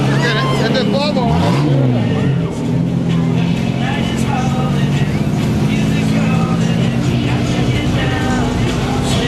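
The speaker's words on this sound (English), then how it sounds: "That's the Volvo." A Volvo cruises past at the Route 66 Rendezvous hot rod and muscle car cruising event, its steady engine rumble blending with dense crowd chatter and nearby voices talking throughout.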